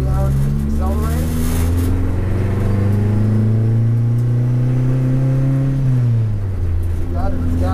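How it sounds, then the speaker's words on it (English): A 600 horsepower Toyota C-HR R-Tuned heard from inside at full throttle, its engine droning loudly and steadily with pitch climbing slowly and shifting near the end, people talking over it. "Just all the way down, accelerate."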